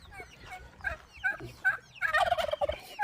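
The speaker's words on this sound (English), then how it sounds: "Turkeys are turkeying." Turkeys on a spring homestead gobble in repeated bursts, rising to a louder, denser cluster of gobbles toward the end, fairly close and with no talking.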